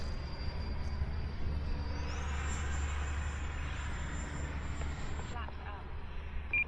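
Eflite F-18 Blue Angels 80 mm electric RC jet on a 6S battery flying overhead, a steady whining ducted-fan roar that rises in pitch midway over constant low rumble and wind noise, then drops off near the end.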